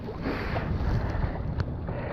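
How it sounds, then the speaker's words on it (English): Gusty wind buffets the microphone with a low, rumbling roar that rises and falls, plus a brief crackle near the end. "I knew that was going to happen because it is windy here."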